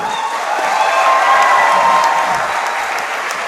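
Loud, sustained applause from a crowd at a sports ministry event opening a kho kho training camp, with some cheering and children's voices blending into the steady clapping.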